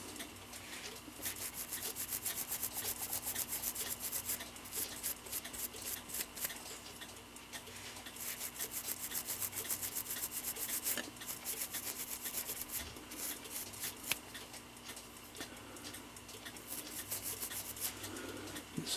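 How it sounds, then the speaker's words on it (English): A small brush scrubs stuck gunk from the lantern pinions of a Seth Thomas mantel clock, giving quiet, close, repeated scratchy strokes in uneven bursts over a faint steady hum. "And I can brush those lantern pinions."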